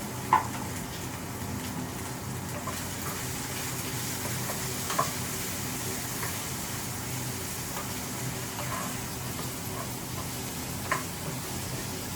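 Vegetables frying lightly in a little oil in a pan, a soft continuous sizzle with occasional faint ticks and stirring clinks, quiet and steady with no talk.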